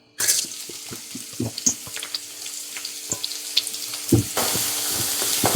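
Chopped green chili, shallots and garlic fry in coconut oil, a close, steady sizzle with scattered clicks and scrapes of stirring, the hiss swelling louder near the end.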